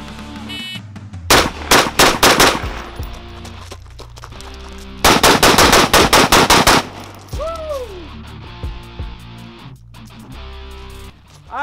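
Rapid bursts of AR15 rifle fire during a timed shooting drill, two tight strings of loud, sharp shots separated by a pause, with faint background sounds between.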